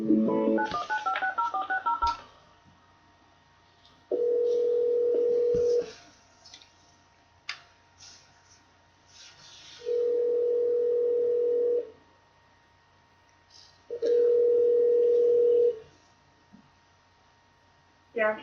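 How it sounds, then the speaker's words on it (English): A telephone call being placed to a police department in Durham, North Carolina: a quick burst of keypad dialing tones opens, then three long, steady ringback tones follow with quiet gaps between them, clear and close. "I'm going to place a phone call to the Durham, North Carolina Police Department."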